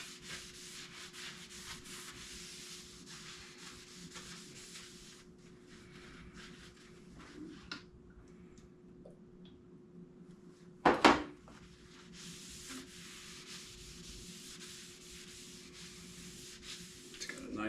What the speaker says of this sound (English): This is just taking off any of the excess WD-40 that's still on the table